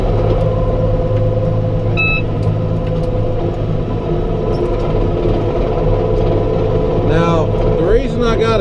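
A tractor fitted with cab gear runs steadily while clearing deep snow, its engine a loud, constant rumble close by, with brief rises in pitch near the end.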